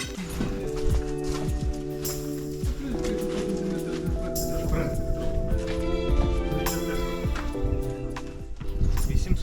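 A horse pulls a heavily loaded cart, its hooves clip-clopping in a steady rhythm close by amid rattling and clatter, while people talk.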